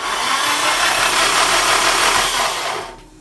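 Freshly overhauled Nissan SR20 engine running steadily, a dense broadband mechanical roar held at a constant level close by, then fading out near the end.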